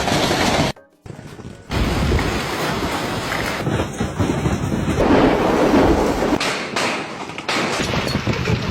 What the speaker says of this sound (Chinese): 这么大的冰雹，你的头能接几个？